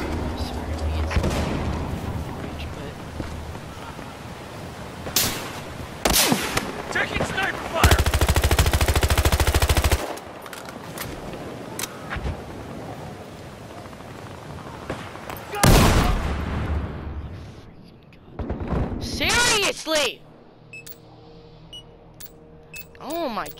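Gunfire in the video game Battlefield Hardline: loud bursts of automatic fire and single shots come in clusters with short gaps, close and harsh, with talk in places.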